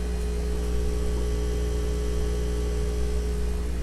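Commercial aquarium air pump, a Jehmco LPH80 in a fish room, giving off a constant, steady electrical hum with no change or pauses.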